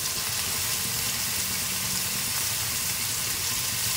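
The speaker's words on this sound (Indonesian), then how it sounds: "Oke, ini bumbunya tumis dulu." Curry spice paste sizzles steadily in a hot pan, a dense, even hiss that carries on unbroken at close range before crab goes in for a thick crab curry.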